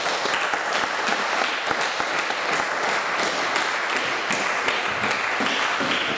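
Church congregation applauding to acclaim the Lord, a steady, dense roar of many hands clapping that holds evenly throughout without a break.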